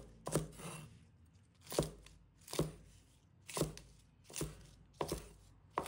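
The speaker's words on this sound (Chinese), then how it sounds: "几根蒜苗，把它切成小段。" Knife chopping garlic sprouts into short pieces on a cutting board, with about eight sharp, evenly spaced chops, close and loud, with quiet gaps between them.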